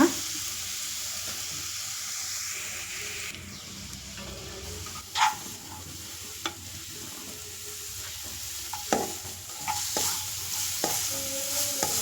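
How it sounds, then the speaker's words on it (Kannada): Grated carrot fries in ghee for a carrot and semiya payasam, a soft continuous sizzle broken by occasional sharp scrapes and knocks of a spoon stirring the pan. "ಇದೇ ತುಪ್ಪಕ್ಕೆ ನಾವೀಗ ಕ್ಯಾರೆಟನ್ನು ತುರಿದಿಟ್ಕೊಂಡಿದ್ದೀನಿ, ಅದನ್ನು ಕೂಡ ನಾವು ಹಾಕಿ ಚೆನ್ನಾಗಿ ಫ್ರೈ ಮಾಡ್ಕೊಳ್ಳೋಣ"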